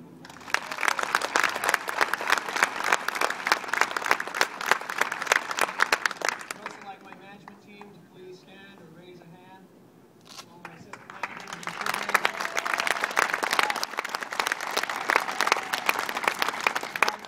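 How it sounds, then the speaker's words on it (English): An audience at a store's pre-grand-opening event claps for the store associates, sustained applause that dips into a quieter stretch where a voice is heard, then swells again with dense, crisp clapping. "So please give them another round of applause."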